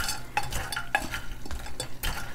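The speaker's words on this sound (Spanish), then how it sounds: "Este proceso, le vamos picando el azúcar con la pala" A spatula scrapes and knocks against a pot while breaking up crystallizing sugar for Mexican candied nuts, giving a quick run of uneven clicks and scrapes, close and fairly loud.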